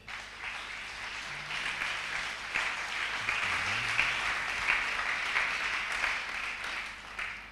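Sustained applause from a church congregation acclaiming the Lord during a French-language service, a steady dense wash of clapping throughout with a faint voice briefly audible underneath.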